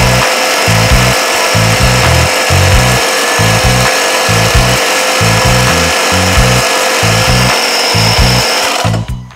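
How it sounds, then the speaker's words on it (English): An AC air compressor powered by a Suaoki 400Wh solar portable power station runs loudly and continuously for about nine seconds, with a steady mechanical roar over a rhythmic low pulsing chug. "So why don't we try an air compressor?"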